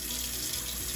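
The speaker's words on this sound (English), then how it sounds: "first I have to wash my hands though" Tap water running into a kitchen sink while hands are washed, a steady close hiss and splash with no talking.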